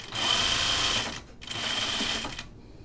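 A sewing machine stitches a seam on an Archer button-up shirt in two steady whirring bursts separated by a short pause, close and clear with no talking.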